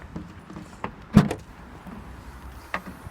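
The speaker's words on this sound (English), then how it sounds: "I'll just unlock the car, that would help." Vauxhall Mokka being unlocked: a few faint clicks, then a sharp clunk of the central locking near the middle, with a softer mechanical click later, close by in a quiet setting.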